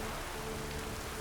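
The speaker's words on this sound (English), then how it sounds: "Brought us rain." Steady rainfall in The Witcher 3, a soft even wash of drops with no breaks, faint and continuous.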